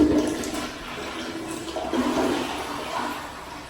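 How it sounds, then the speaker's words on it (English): A toilet in a college apartment bathroom flushes with a loud rushing gurgle of water that surges and then drains away, close by, with no voices. "I need to flush the toilet too."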